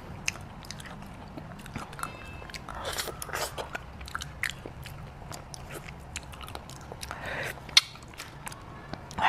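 Someone bites into and chews chilled fresh red-fleshed guava up close, with soft crunches and wet chewing sounds scattered through a quiet room.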